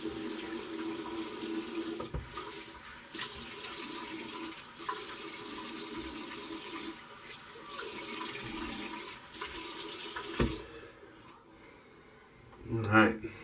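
Steady running tap water splashes into a sink for a final rinse after a shave, then cuts off near the end with a few drips and a clunk.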